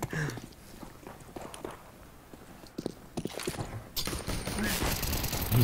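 CS:GO gunfire pops in short bursts amid footsteps and shuffling, a louder burst near the end, with a voice speaking briefly.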